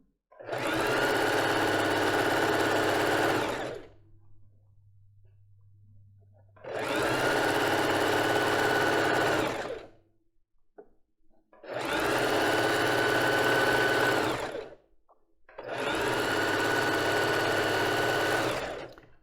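A sewing machine runs a zigzag stitch, sewing elastic onto a lace bra, in four long steady bursts of a few seconds each with short pauses between them and a low hum during the first gap.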